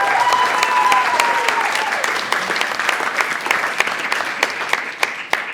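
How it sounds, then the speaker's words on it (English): Wedding guests at a summer reception at Buxted Park Hotel give a lively round of applause, dense clapping that gradually thins to scattered claps, with a few voices underneath. "Can we have another round of applause for Meg, please?"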